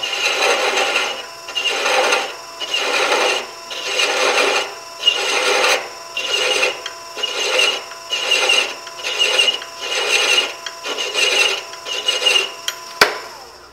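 Thread chaser cutting threads on a lid, a dry rhythmic rasping with about a dozen evenly spaced strokes, close and steady, with no voices.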